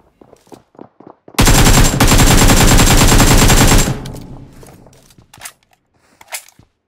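Automatic gunfire from the mobile battle-royale game PUBG Mobile: a loud, sustained rapid burst lasting a couple of seconds, set between quieter scattered footstep-like taps and small clicks before and after.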